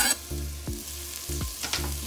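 Red onions hit a hot pan, a steady sizzle broken by a few spoon clacks and stirring scrapes, close and alone with no talk.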